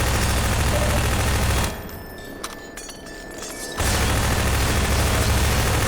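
Sustained machine gun fire in Half-Life 2, a loud continuous roar of rapid shots that drops out for about two seconds in the middle before resuming just as loud.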